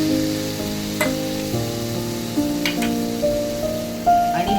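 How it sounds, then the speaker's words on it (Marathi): Onion, coconut and black masala paste sizzles steadily in hot oil in a pan, a constant close frying crackle with occasional clinks and stirring. "हे व्यवस्थित तेलात भाजून घ्यायचं आणि ह्याला तेल सुटेपर्यंत जरा झाकण मारून ठेवायचं।"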